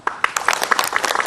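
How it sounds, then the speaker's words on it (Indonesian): A brief burst of audience applause at an Islamic religious television program, with quick, dense clapping from a crowd that stays loud for the whole short moment. "Tepuk tangan dulu."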